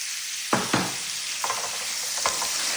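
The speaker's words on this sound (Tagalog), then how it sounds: "nilagyan ko siya ng konting oil at ilagay ko na itong chicken" Chicken pieces go into a pan of hot oil and sizzle steadily, with a few sharp scraping stirs breaking through the frying hiss.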